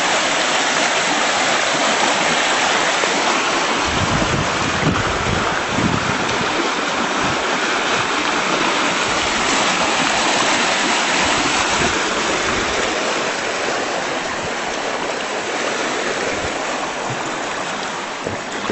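Creek water rushes steadily over saturated ground where it has cut a new channel, a broad continuous roar and hiss heard up close for nearly twenty seconds with no voices.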